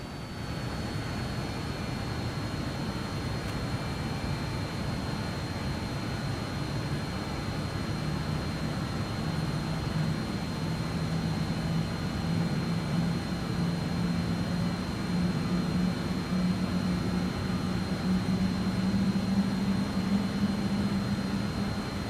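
Airliner engines in Microsoft Flight Simulator during the climb after takeoff: a steady, broad roar with a low hum that rises slightly in pitch, with no speech.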